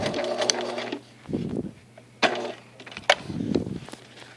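A Bernina sewing machine sews a long basting stitch. Short, clattering mechanical runs are broken by brief pauses and sharp clicks, close up and with no talking.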